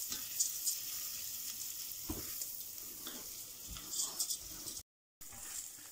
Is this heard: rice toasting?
yes